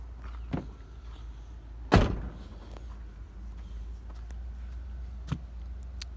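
A car door opens with one sharp, loud clunk near the middle, followed by a few faint knocks over quiet background hiss.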